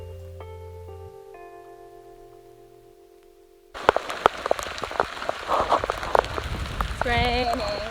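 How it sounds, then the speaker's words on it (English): Rain pours steadily on the Appalachian Trail, a dense, close patter of drops that starts abruptly partway through after a quieter tonal opening, with a voice briefly rising over the downpour near the end. "It's raining. It's pouring."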